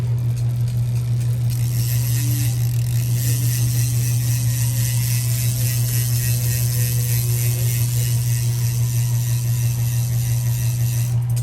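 The DT Swiss 350 freehub on a Revolt Terra CL wheel of a 2022 Specialized Crux Pro ticks as the wheel spins, a fast, even ratcheting buzz that runs continuously and close, with no talking.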